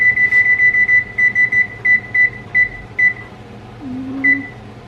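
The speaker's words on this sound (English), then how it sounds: "Okay, timer, I'm gonna go to 30." An oven timer being set while chicken cooks gives a rapid run of short, bright electronic beeps that slow into evenly spaced single beeps, with a low kitchen hum beneath.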